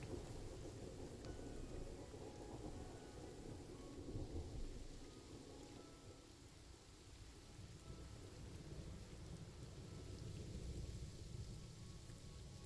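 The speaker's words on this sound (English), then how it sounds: "It's dark and it's raining, so it's kind of hard to see." Rain falls steadily with rolling thunder in the Planet Zoo game world at night, a dense continuous wash of rain and low rumbles, with no voices.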